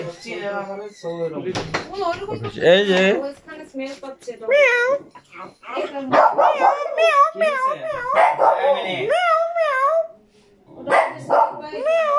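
A dog barks and yelps at a pet clinic in Dhaka during a vaccination visit. The barks are short and intermittent, mostly underneath steady nearby talking.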